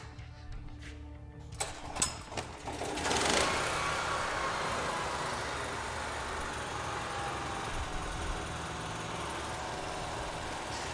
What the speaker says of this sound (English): Okay, so we're going to start the generator.